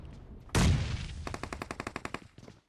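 A loud shotgun blast rings out in PUBG Mobile, followed by a rapid burst of about a dozen sharp gunshots that fade into quieter footsteps and game sounds.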